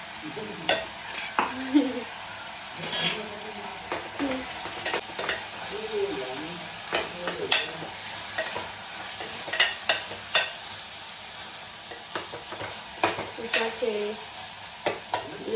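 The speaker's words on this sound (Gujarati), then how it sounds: "વઘારી નાખ્યું છે શાક." A spoon scrapes and stirs tempered vegetables and mung beans in a hot pan, giving regular sharp clacks every second or so over a continuous soft sizzle of frying.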